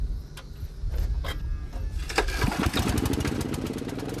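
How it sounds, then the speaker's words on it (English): A portable generator powering an SQFlex pump system is pulled into life: a brief rough cranking and sputter, then the engine catches and settles into a loud, steady, close running drone. "Start the generator."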